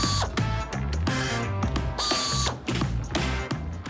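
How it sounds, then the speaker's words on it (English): A torque wrench tightening screws on a Leupold rifle scope mounted on a Savage rifle, rapid loud ratcheting clicks in short bursts, close up and without talk. "Oh, torque them up, that's right."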